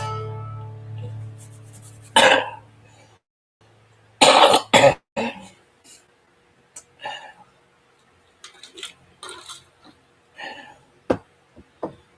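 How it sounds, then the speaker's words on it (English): Someone coughs in several harsh, close bursts spread over a few seconds, followed by smaller coughs and throat clearing, with a low hum at the start and quiet gaps between. "Really sucks when you got a cough"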